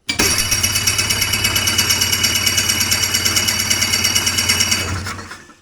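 A hovercraft engine cranks and tries to start, a loud, steady rhythmic chugging that runs for about five seconds before slowing and cutting out, with no talk over it.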